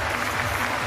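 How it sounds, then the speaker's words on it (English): A wrestling arena crowd at a Stardom women's pro wrestling event applauds after a championship match, a brief dense burst of clapping and crowd noise with a voice faintly underneath. "the crowd here responding with a round of applause for both of these phenomenal wrestlers"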